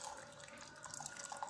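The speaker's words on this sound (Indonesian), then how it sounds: "Lalu kita taruh air panas." Hot water poured into a container for making milk gives a faint, continuous splashing trickle, quiet and unaccompanied by speech.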